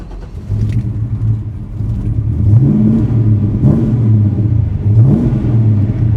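A 1940 Chevy Coupe engine turns over and settles into a loud, steady idle, with several revs rising and falling in pitch over a deep rumble.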